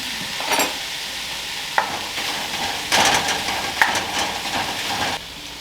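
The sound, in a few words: cooked ground beef being added and stirred in a pan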